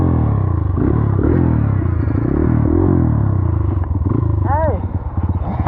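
Dirt bike engine revving loud and close during a wheelie, a harsh buzzing drone that rises and falls in pitch, with a voice calling out briefly near the end.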